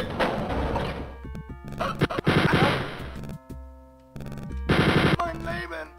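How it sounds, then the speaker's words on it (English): Rapid machine gun bursts from the video game Wolfenstein 3D, sharp repeated cracks in short volleys with pauses between, loud and close, mixed with game effects. "How are you able to shoot your machine gun faster than me?"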